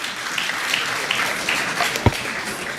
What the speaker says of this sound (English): There is no clapping of hands in Parliament